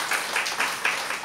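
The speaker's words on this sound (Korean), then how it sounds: "우리 박수 한번 합시다" A church congregation gives a short burst of applause, a brief run of steady clapping with little else around it.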